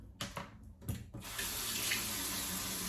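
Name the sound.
water running from a tap into a sink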